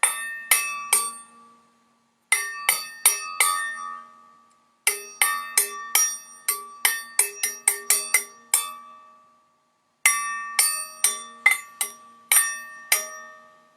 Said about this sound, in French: tire sur un cordon doré qui fait sonner un carillon